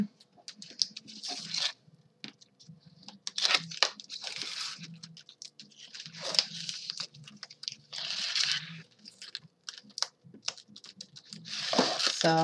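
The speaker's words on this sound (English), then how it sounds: "now we're going to take off all the score tape." Score tape being peeled off paper for a mini album cover, heard as a series of close, crackly tearing and ripping bursts at an irregular pace, with quiet pauses between pulls.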